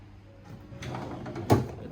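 A drawer in a room at the Ritz-Carlton hotel in Bali slides with a soft rumble and ends in a brief bump, faint and close in a quiet room.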